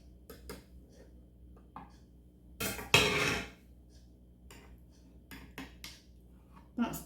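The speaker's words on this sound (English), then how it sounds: "I'm going to pack it down with a teaspoon" Teaspoon scraping and tapping against a glass jar while Christmas mincemeat is packed down, a few soft clinks and scrapes with one louder, longer burst of scraping in the middle, close and otherwise quiet.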